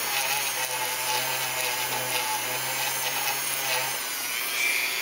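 A steady high-pitched grinding whir of a drill bit cutting through plastic, following a template edge on a model kit part, runs continuously, with a faint low hum underneath.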